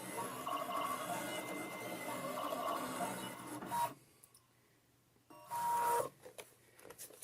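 A Siser Juliet cutting machine slices a faux leather circle with a steady mechanical whir and buzz, pausing into near-silence before short renewed bursts of motor movement, fairly close and with no talk.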